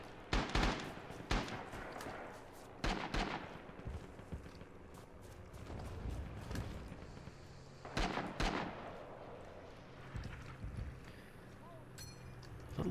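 Distant gunfire in the video game Rising Storm comes as scattered sharp cracks and bursts against a busy battlefield background, some shots closer and louder, with irregular spacing.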